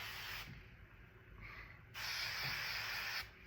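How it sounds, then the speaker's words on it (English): Tresemme Ultra Fine hairspray released in two bursts of airy hiss, the first brief and soft, the second longer and louder for about a second, close by, with no talking. "Tresemme Ultra Fine spray."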